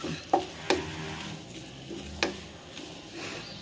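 A chicken masala filling with fresh coriander is stirred in a pan, giving a few sharp spoon-on-pan clinks over a faint, low background of gentle cooking.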